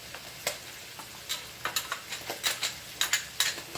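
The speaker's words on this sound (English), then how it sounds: "now we're going to add our garlic" Garlic hitting a hot pan for chicken marsala gives a steady, soft sizzle, broken by a run of quick ticks and scrapes from a utensil tossing it around, close up with no talking.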